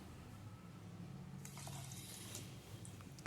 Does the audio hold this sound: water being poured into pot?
yes